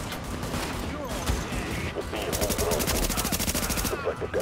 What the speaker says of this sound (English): I'm getting shot out in the open.